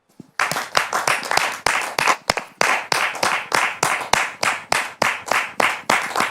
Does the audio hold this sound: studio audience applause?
yes